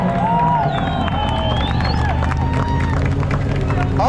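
A crowd at a race finish line cheers and claps continuously in a dense wash of voices, with an amplified voice and whistle-like tones rising above the steady hubbub.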